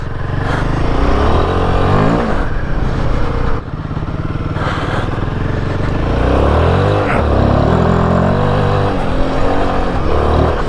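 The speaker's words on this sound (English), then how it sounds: "Third gear, first time I've hit third gear in a Vengeance down the steep hill. Engine braking, quite a bit of it actually." A Royal Enfield Himalayan 450 motorcycle engine braking down a steep off-road hill in third gear, its loud close rumbling drone rising and falling through repeated swells, with continuous wind and road noise.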